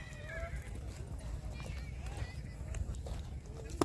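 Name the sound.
race horse running at Vekariya race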